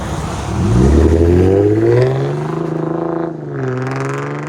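Lexus RC 350 F Sport with a 3.5L V6 and a muffler delete, revving up sharply, holding a raspy high note, then dropping back to a burbling idle before a second lighter rev, loud and close.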